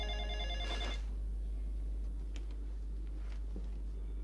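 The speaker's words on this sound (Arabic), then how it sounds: "تعالي رد على التليفون" A telephone bell rings in a domestic drama scene, one short burst of ringing at the start that then gives way to a low steady hum and faint room noise.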